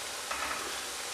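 Papaya fritters frying in a pan of hot oil, giving a steady, soft, close sizzle with no break.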